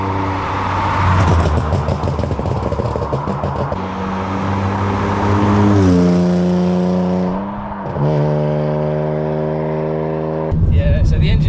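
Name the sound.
BMW E38 728i engine while driving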